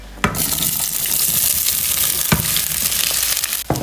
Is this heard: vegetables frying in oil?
yes